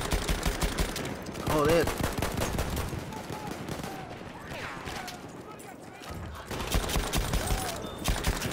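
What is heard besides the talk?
Chauchat light machine gun firing in the video game Battlefield 1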